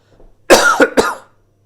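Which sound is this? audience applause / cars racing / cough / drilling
cough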